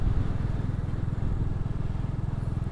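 A Royal Enfield Classic 350 motorcycle on a local ride, its engine giving a steady, loud, rapid thumping pulse throughout with constant road rumble and no clear speech.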